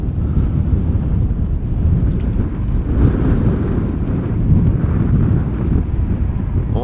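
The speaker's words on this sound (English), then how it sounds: "As you guys can hear, it is quite windy over here." Strong wind at Schiphol Airport roars and buffets the microphone in a constant heavy rumble, with no voices over it.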